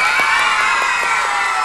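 A studio audience of children and adults cheers and shouts to vote for look-alike contestants on a 1989 Nickelodeon game show, a loud continuous crowd roar with faint clapping inside it.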